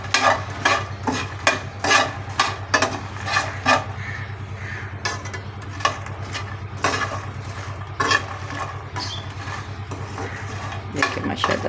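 Phool makhana (fox nuts) are stirred and dry-roasted in a pan, repeated rattling scrapes and soft clatter in a steady rhythm over a low constant hum, close and moderately loud.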